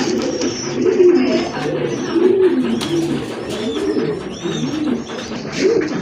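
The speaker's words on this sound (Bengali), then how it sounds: "আরেক জোড়া কবুতর চলে আসছে" Fancy pigeons coo repeatedly in soft, rolling, throaty calls, close by and overlapping, with faint chirps and a murmur of background noise.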